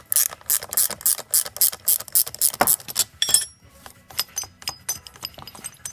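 Ratchet wrench loosening a bolt on a Volkswagen Transporter 4 steering rack, quick bursts of close metallic clicking in short strokes, pausing and resuming, with light clinks near the end.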